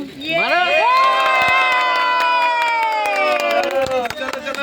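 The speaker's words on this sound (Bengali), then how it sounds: "হাততালি" At a shop opening ribbon-cutting, a crowd including children cheers and shouts loudly up close, with scattered hand claps through the excited noise.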